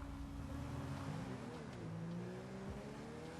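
An Albany Cavalcade XL SUV in GTA V Online pulls away from a start, its engine drone rising smoothly in pitch and holding steady, faint and continuous, with no talking.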